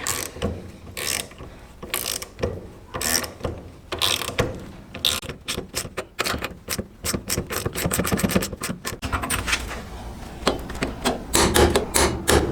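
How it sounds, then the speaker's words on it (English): A ratchet wrench clicks repeatedly as a spindle nut is tightened on the front hub of a Lotus Elan under restoration, with sharp close metallic ticks in uneven bursts that grow quicker and denser toward the end. "I'm just going to slowly and carefully tighten down the spindle nut."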